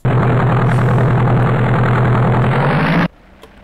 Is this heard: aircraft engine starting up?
yes